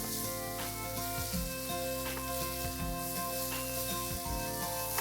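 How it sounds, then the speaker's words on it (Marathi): Puneri misal masala with goda masala sizzles in a pan as it is stirred, a loud, continuous frying hiss. Repeated spatula scrapes and knocks cut through it at close range. "पुन्हा एकदा मिक्स करून घेऊया."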